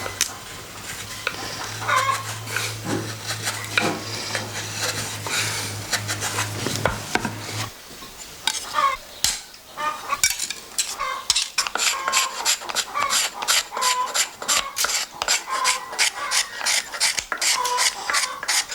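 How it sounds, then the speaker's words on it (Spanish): A wooden clog (madreña or albarca) is scraped and smoothed by hand with the cut edge of a piece of glass in place of sandpaper, giving repeated close, dry rasping strokes in a steady rhythm with no talk. "El afinado de la superficie lo realiza con el corte de un cristal, en sustitución del papel de lija"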